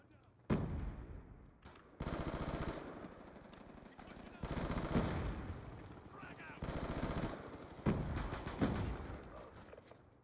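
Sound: gunfire in the video game Black Ops 2

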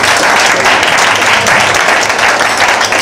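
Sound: audience applause at live concert

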